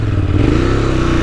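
A 2018 Ducati Monster 821 motorcycle runs at steady speed with a continuous low engine drone, close and loud, the pitch rising slightly midway with some clattering road noise.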